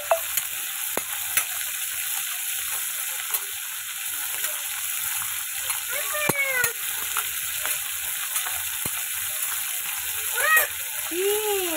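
Fish sizzles and spits in oil in a home kitchen, a continuous close frying hiss broken by clicks and stirring sounds, with a couple of short voice-like sounds and scattered ticks.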